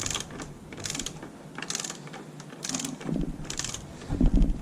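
A torque wrench tightens a bolt on a Honda CRF450L in a workshop, giving a series of soft, evenly spaced ratcheting clicks at close range with no talking.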